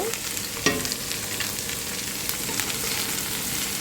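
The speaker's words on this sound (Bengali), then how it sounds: "এখানে তিতা কলা ভাজি করতেছি" Bitter banana (tita kola) bhaji frying in a pan: a loud, continuous sizzle close by, with a single sharp clink early on and a few soft stirring scrapes.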